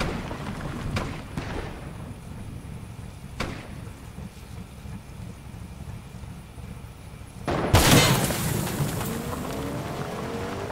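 A loud, sharp sniper rifle shot in Fortnite, heard as one broadband crack that rings out with a short tail, following a few fainter distant shots over steady low background noise.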